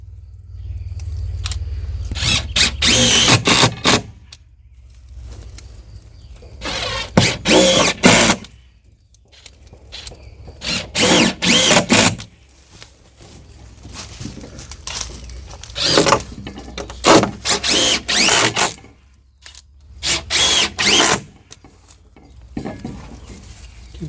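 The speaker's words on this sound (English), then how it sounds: "now we're just going to put some screws in the face of this to tie it to the existing post again." A power drill driving screws into the face of a wooden fence post during a repair, several loud whirring bursts of one to two seconds each, separated by short quiet pauses, close by.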